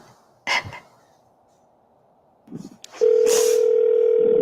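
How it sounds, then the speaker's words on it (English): An answering machine sounds its long steady electronic tone before a message is recorded, preceded by brief rustling and small handling noises, loud and close with no speech during the tone. "At the tone, please record your message."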